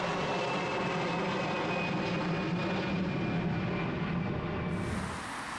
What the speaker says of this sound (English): from whose airport planes depart